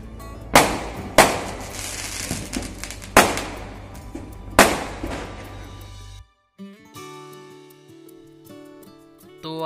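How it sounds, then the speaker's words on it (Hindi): Diwali firecrackers burst outside at night, four loud sharp bangs with ringing echoes spaced about a second apart, then a brief gap followed by faint tonal background sound. "ये देख लो इतनी आवाजें आ रही हैं, अभी भी जल रहे हैं"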